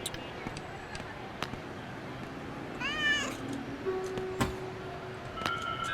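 A pet cat gives one clear meow partway through, fairly faint against a quiet indoor background with a few scattered knocks and taps.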